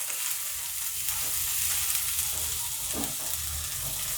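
Oil sizzles in a pan as eggplant is fried and stirred for a curry with pumpkin lentil dumplings, a steady hiss broken by occasional scraping strokes of a spatula, close and moderately loud.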